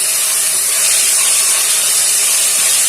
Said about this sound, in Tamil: தக்காளி நல்லா வதங்கணும், இல்லைன்னா பச்சை வாசனை ஸ்மெல் வரும்